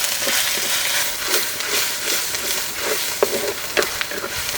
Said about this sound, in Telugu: ఈ అల్లం వెల్లుల్లి పేస్ట్ పచ్చివాసన పోయే వరకు బాగా కలుపుకుందాం.